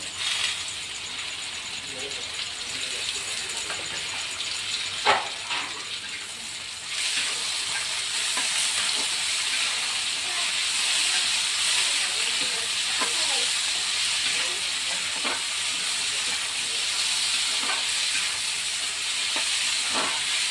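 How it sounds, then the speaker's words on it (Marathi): Finely chopped tomato hits hot tempering oil in a pan, giving a steady, close sizzle and hiss that carries through the whole stretch, with a few clinks and stirring knocks. "आता बारीक चिरलेला टमाटर टाकणार आहे"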